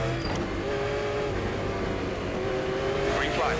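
Super late model race cars roar around New Smyrna Speedway in the iRacing sim, a steady dense engine drone with pitch sweeps as the pack runs together, loud and continuous throughout.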